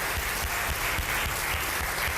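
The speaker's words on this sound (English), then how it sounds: "Adeshola, Agbola, Okuniola, round of applause for them, please." An audience at a declamation contest on a reality TV show applauds the judges, a loud, continuous wash of clapping from a full room with no talk over it.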